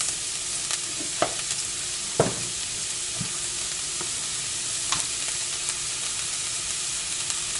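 Navy beans and lamb cooking in a pot give a steady low sizzle and simmer, broken by a few soft stirring knocks and scrapes at close range, with no voices.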